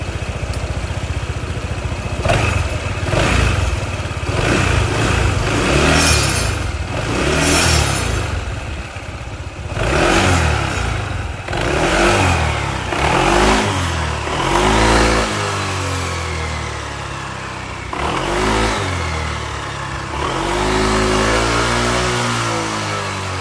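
Honda ADV160 scooter after a CVT upgrade, its engine revving repeatedly in rising and falling surges over a steady idle, loud and close with no talking.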